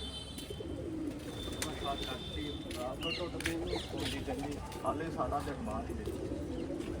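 Pigeons coo softly in a low, rolling rhythm under nearby conversation, with occasional sharp clicks and rustles.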